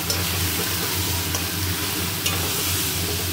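Fish head stir-frying (kosha) in a pan, a steady close sizzle with a low simmering bubble throughout and two brief sharp scrapes of a spatula, no voices.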